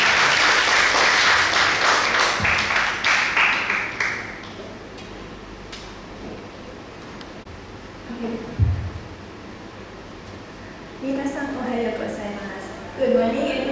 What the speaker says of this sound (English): Please give a big applause to the Kyushu team.